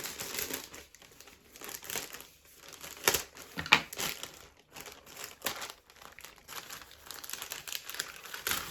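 Crinkly plastic packaging being handled and torn open up close, with bursts of crackling and rustling over several seconds.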